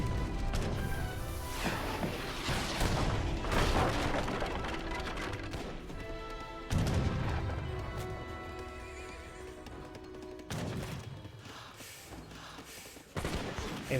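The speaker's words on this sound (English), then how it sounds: "The cannon is now setting on up, gets a volley down the musketeers." Cannon volleys in an Age of Empires 3 battle against musketeers, heard as several heavy booming bursts amid horse neighs, galloping hooves and general combat clatter, with no talking.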